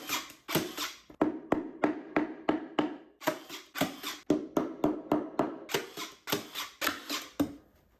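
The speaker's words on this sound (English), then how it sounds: "I'm going to use staples to secure it and a hammer" A hammer drives staples to secure an upholstery cover on a footrest, with steady repeated sharp blows in quick runs and short pauses, close and fairly loud, with no voices.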